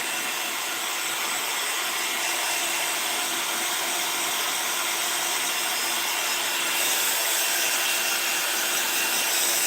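A heat tool blows a continuous loud, even rushing whir as it dries a painted art journal page, holding steady throughout with a slight lift near the end and no talking.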